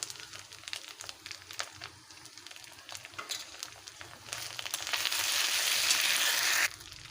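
Ginger-garlic paste fries in a hot pan for a Bengali rui posto fish dish, crackling and sizzling with scattered pops and a louder, steadier hiss building toward the end.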